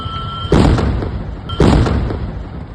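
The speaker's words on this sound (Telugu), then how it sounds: "వామ్మో ఏం పేలుడు" An ambulance explodes on a road, heard as two loud, close booming blasts about a second apart, each followed by a rumbling decay.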